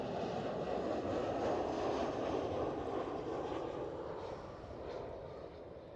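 A KLM Cityhopper Embraer E190 jet at Amsterdam Schiphol airport gives a steady, moderately distant engine roar that slowly fades toward the end.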